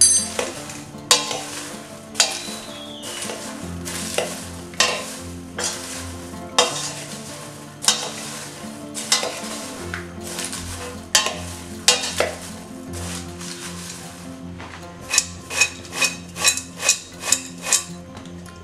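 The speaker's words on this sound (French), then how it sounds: "Et je mélange bien." Homemade popcorn being stirred with a little salt, producing a steady run of scraping and rattling strokes in a pan with faint sizzling, then a quick series of sharp rhythmic clanks near the end.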